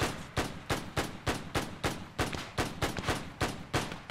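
Rapid gunfire from an Arma 3 World War II battle near Nijmegen, a steady rhythm of about fifteen loud, evenly spaced shots over a few seconds with no talk.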